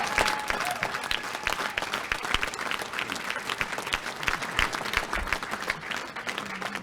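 An audience claps continuously through Brian Jean's speech, the applause dense and sustained at a moderate level, with crowd noise blended into the clapping.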